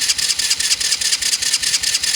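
An old quad ATV, left sitting for over ten years, cranks over on its electric starter with the choke on, a steady rhythmic whirring churn with regular pulses, close and fairly loud, no talking over it.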